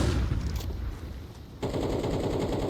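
Rapid automatic gunfire from Counter-Strike 2 during a competitive match on the Overpass map, a dense rattling stream of shots that grows louder and thicker partway through, with no voices.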